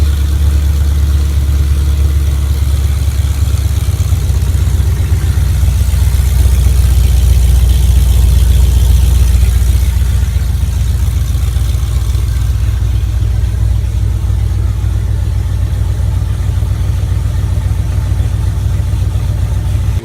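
LS1 V8 engine swapped into a Nissan 240SX S14 drift car, running steadily with a loud, deep, constant rumble and slight rise in revs, recorded close with no talk.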